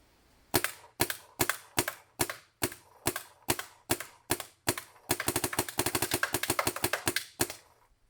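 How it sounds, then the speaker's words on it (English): Paintball gun firing at a Khan mask: about a dozen sharp, evenly spaced shots, then a fast burst of rapid-fire pops, loud and close with no talking. "let's fire off a few rounds and let's see how this mask holds up"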